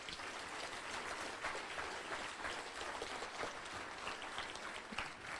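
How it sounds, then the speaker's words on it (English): Audience applause at a stock car racing awards banquet in Pigeon Forge, Tennessee, a steady wash of clapping from a full room that holds evenly, fairly faint and distant, throughout. "One round of applause for everybody in this room tonight."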